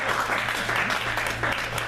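A dinner-roast crowd stands, cheers and applauds for the 1976 jazz band, with dense, continuous clapping and faint voices mixed in throughout a short, loud burst.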